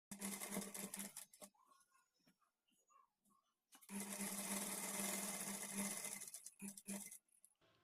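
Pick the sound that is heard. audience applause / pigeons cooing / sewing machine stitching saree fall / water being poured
sewing machine stitching saree fall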